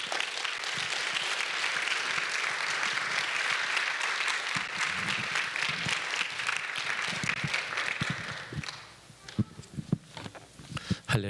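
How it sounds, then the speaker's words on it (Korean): A church congregation at a Sunday worship service applauds to welcome the pastor, with dense, sustained clapping that fills about eight seconds before thinning into a few scattered claps and murmurs. "우리 목사님 나오실 때 우리 크게 박수로 좀 맞으면 좋겠습니다"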